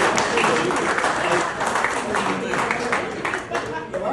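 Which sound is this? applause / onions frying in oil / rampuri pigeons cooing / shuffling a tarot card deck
applause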